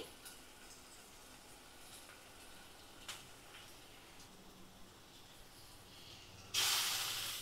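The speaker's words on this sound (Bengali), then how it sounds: "কাঁচা লঙ্কা দিয়ে দিচ্ছি, একটু ফাটিয়ে ফাটিয়ে লঙ্কাগুলো দিয়ে দিচ্ছি" Green chillies hit hot oil with a cumin-coriander paste in a pan while mutton curry is cooked, giving a low steady sizzle that swells into a loud, close, bright spitting burst near the end.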